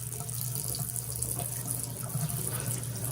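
Hot water running from a matte black WorbWay two-handle widespread bathroom faucet into a sink, a steady close hiss and splash without any voices.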